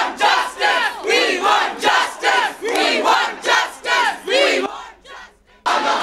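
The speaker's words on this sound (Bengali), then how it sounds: "তাঁদের দেখে উই ওয়ান্ট জাস্টিস স্লোগান দিতে থাকেন পড়ুয়ারা।" Students at Jogesh Chandra Chaudhuri Law College in Kolkata chant 'We want justice' in rhythmic unison, a loud crowd repeating the slogan in regular bursts with a brief pause near the end.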